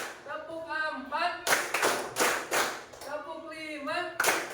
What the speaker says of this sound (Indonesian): Supaya kalian tidak tegang, tepuk tangan dulu untuk kita semuanya